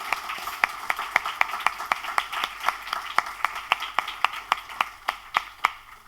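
Sparse, evenly spaced handclaps from a small audience honouring student inductees at a university honor society induction ceremony, each clap sharp and moderately close, continuing steadily without voices.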